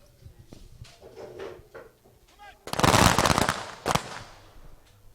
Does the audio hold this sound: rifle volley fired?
yes